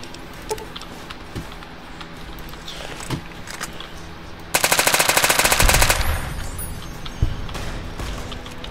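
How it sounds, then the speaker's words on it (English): A Chinese assault rifle from the Project Nevada mod for Fallout New Vegas fires a rapid burst of about a second and a half, loud over a busy game soundscape of scattered thuds and clicks. "That's added by Project Nevada, that Chinese assault rifle."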